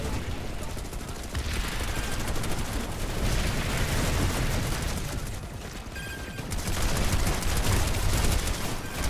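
Sustained automatic gunfire from a rifle in the shooter Planetside 2, rapid rattling bursts with short pauses between them, fairly close, mixed with the surrounding battle noise.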